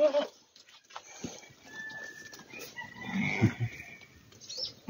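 Newborn lambs of the 2023 season bleat on a farm, their short calls rising now and then over a steady outdoor background, with a few louder, closer bleats toward the end.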